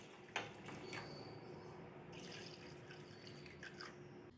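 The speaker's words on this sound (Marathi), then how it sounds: "तर आता पुरेसं पाणी घालू आपण याच्यामध्ये।" Water trickles and drips faintly as it is poured into a bowl of washed jowar and dal, with a soft splash near the start and quiet kitchen ambience.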